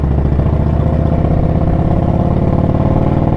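A motorcycle exhaust with performance mufflers and baffles drones steadily and loudly at a constant, low throttle while riding, a continuous rumbling engine note with no talk.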